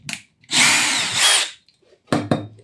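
A power drill whirs loudly for about a second, then gives two shorter bursts, close up with no talking.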